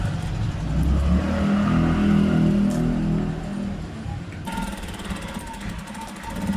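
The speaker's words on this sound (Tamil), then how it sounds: "துணியை மட்டும் விட்டுடக்கூடாது, கொஞ்சம் டைட்டாக இழுத்து பிடிச்சி இப்படி தைச்சிக்கணும்" A sewing machine stitches a blouse in a steady, rapid mechanical chatter that runs continuously at close range, then eases slightly toward the end.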